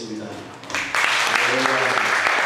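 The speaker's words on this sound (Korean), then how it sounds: "큰 박수로 모시겠습니다" A church congregation at a Torah portion lecture breaks into applause about a second in, loud and continuous, with voices talking over the clapping.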